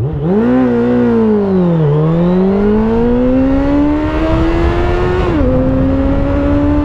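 A Suzuki GSX-F 600 motorcycle accelerates hard, its engine note climbing steadily through the revs, dipping briefly at gear changes before rising again, loud and close throughout with no talk.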